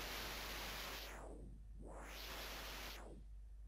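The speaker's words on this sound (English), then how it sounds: "This is the white noise." Broadband white noise from a synthesizer patch in a dubstep-style production, a steady hiss whose upper band sweeps twice, narrowing and reopening in a rhythmic filter-like motion, loud and alone.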